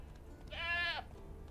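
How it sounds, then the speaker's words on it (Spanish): A goat in The Witcher 3 lets out a single clear, nasal bleat lasting about half a second, close and prominent over quiet game ambience. "Ahí está la cabra."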